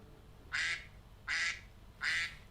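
Three loud, evenly spaced duck quacks ring out one after another, each short and bright, over a quiet steady background hum.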